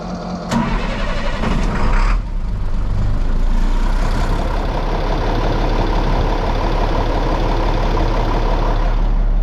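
A 1998 International 4700 truck with a DT466e diesel engine cranks and fires up, then settles into a steady, loud idle that runs continuously close by with no talking.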